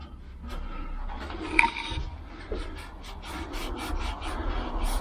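Filler being scraped and rubbed off a welded sheet metal panel, a rough rasping scrape with a sharper scratch midway, steady close-up grinding texture over a low workshop hum, no talking.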